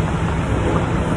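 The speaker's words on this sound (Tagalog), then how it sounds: "Naulan." Steady rain falls during a road trip to Baguio City, a dense, even hiss that holds without pause from start to finish, fairly loud and close, with no voices.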